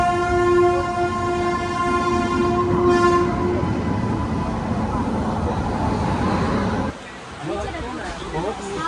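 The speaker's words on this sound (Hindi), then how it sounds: "तो ट्रेन में तो मैं बैठ गया था" A passenger train from Delhi toward Goa running loudly, with a long sustained horn blast over steady rolling rumble and rail clatter that briefly dips quieter near the end.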